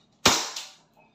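A single sharp shot from an EMG Pit Viper John Wick 4 airsoft pistol on a chronograph test, a crisp snappy pop with a brief decaying tail and a faint mechanical click after.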